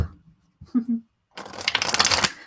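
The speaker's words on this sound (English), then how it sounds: "Give this a shuffle. I have a feeling it's going to shuffle nicely" A few soft handling taps, then the quick riffle and rattle of a deck of cards being shuffled close by.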